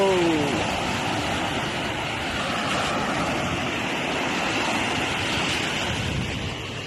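Sea waves wash against the shore in a constant loud rush, mixed with wind buffeting the microphone, with no speech.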